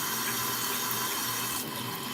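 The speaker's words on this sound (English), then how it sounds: "this water takes forever to get hot." Tap water runs steadily into a sink while waiting for it to turn hot, a loud, close, continuous rush with a slight change in tone near the end.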